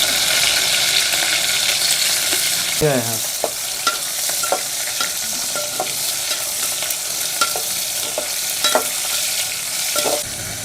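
Mustard and cumin seeds fry in hot oil for a raw mango curry. A loud, steady sizzle runs throughout, and brief pops and spoon scrapes recur against it.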